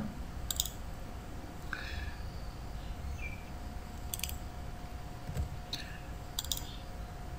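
Computer mouse clicks on a WordPress dashboard: several sharp, isolated clicks spaced a second or so apart, close and crisp over a quiet hum.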